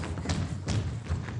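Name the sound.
children jumping up and down, landing thuds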